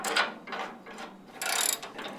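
A ratchet tightens bolts on a VW Type 1 link pin beam in several quick bursts of clicking, close and fairly loud, separated by brief pauses.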